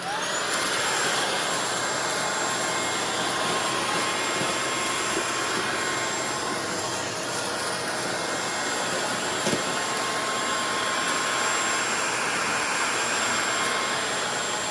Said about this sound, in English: Now I'm going to use the Tineco on max mode for the rest, just general vacuuming around.